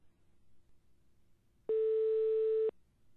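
A telephone line sounds one steady electronic tone while a call is placed back, lasting about a second and loud against a quiet background with no talk.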